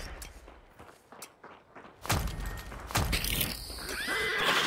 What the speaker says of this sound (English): There go the horses.